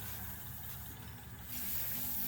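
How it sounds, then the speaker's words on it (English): A short hiss of isopropyl alcohol sprayed from a bottle onto a rag, close and soft, with a brief pause before a second burst of spray. "I am going to clean this off with a little isopropyl alcohol."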